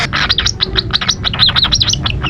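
A pet bird chirps in quick, repeated high tweets while being hand fed formula from a syringe, the calls loud and close in an unbroken run.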